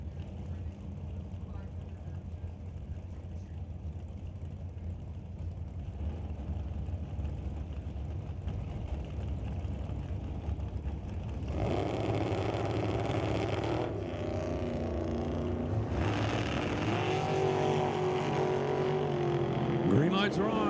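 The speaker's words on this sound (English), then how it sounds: "Here comes Don in the Dodge. Here comes Greg at the dragster" Engines of a Dodge and a dragster at an NHRA drag racing event, a steady drone that swells louder partway through, with an announcer talking over it.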